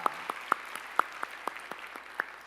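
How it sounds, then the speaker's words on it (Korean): A church congregation claps to welcome missionaries: a sparse, uneven run of distinct hand claps, a little under one per quarter second, fairly faint and not dense. "박수하시죠."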